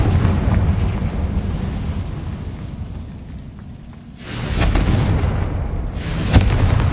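A Confringo fire spell explodes in a Hogwarts wizarding video game, letting out a loud, sudden burst about two-thirds through and another sharp blast near the end, with a rumbling game background and no speech.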